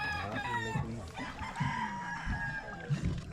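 Chickens cluck and a rooster crows repeatedly in a busy outdoor scene, with overlapping calls and some background voices.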